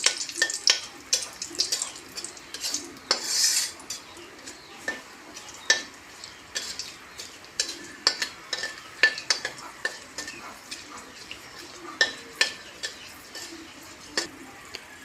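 Dried red chillies and bay leaf stirred in hot oil in a pan: a spoon scrapes and taps at an irregular rhythm over a faint, steady sizzle, close by and without talking.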